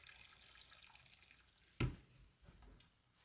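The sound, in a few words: water running from tap to cover potatoes in pot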